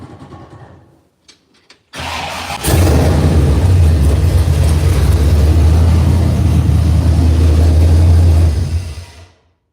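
A 1968 Chevrolet C10 in neutral cranks briefly, catches and fires up, settling into a loud, steady idle close by for several seconds before cutting off.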